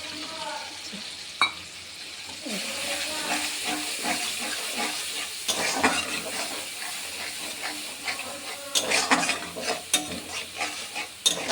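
Ginger paste, cumin, coriander and turmeric sizzle loudly in a pan while being stirred, with a steady hiss broken by scraping strokes and louder bursts as the spices hit the hot oil.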